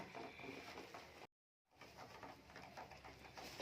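Giribaz pigeons, including young Lotan birds, coo softly in a loft, with a steady murmur of calls and flutters that cuts out briefly partway through before resuming.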